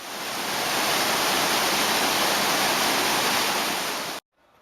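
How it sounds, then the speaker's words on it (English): A waterfall in Ireland roars as a loud, steady broadband rush of falling water for about four seconds, then cuts off abruptly. "Beautiful waterfall."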